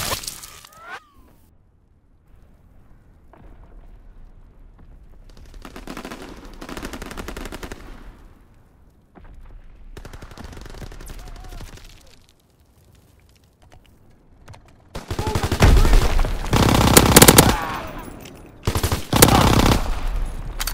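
Machine gun suppressing fire in the World War II shooter Call of Duty WW2, heard as sustained loud bursts of rapid automatic gunfire near the end, preceded by quieter stretches of battlefield ambience with no talking.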